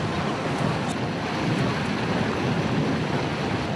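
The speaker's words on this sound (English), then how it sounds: "they're creating a wave, and that wave helps to wash the iceberg apart" Steady rushing wash of seawater surging over an iceberg, a wave pushed up by orcas, broadband and continuous with wind-like roar throughout.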